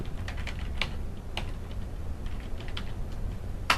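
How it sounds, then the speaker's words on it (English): Someone types on a computer keyboard: irregular bursts of crisp key clicks, close and moderately quiet, with brief pauses and one louder final keystroke over a low background hum. "I'll type it in again."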